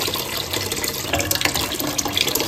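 Water running and splashing through poha in a strainer under a tap, a loud close gush with irregular spatters.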